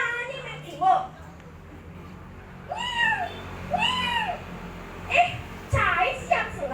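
A cat meows several times, its rising and falling cries coming in a loose sequence, fairly close and moderately loud, with a person talking in between and over the calls.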